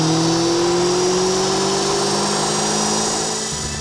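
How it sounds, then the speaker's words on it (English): Vauxhall Astra VXR engine revving on a dyno, a loud sustained drone with a steadily rising whine that eases off slightly near the end, no talk. "we put the VXR on his dyno and got a base figure of"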